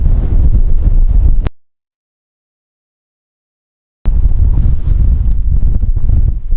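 Strong wind buffeting the microphone at a dinosaur dig site in Wyoming's Rocky Mountain region, a loud roaring rush that cuts out to silence for a few seconds and then returns.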